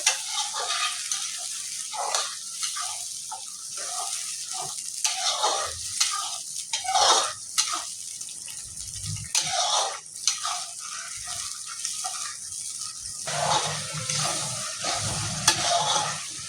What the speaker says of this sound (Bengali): দিয়ে ভালো করে পেঁয়াজের সঙ্গে মিক্স করবো